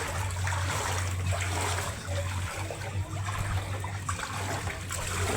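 Steady rushing flood water flows continuously through a street on the third day of flooding, with a broad hiss and low rumble, filling the scene at moderate loudness without pauses.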